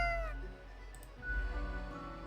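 A cat meows in the video game Death and Taxes, a short tonal call followed by a second, longer meow, clear and close over a low background hum.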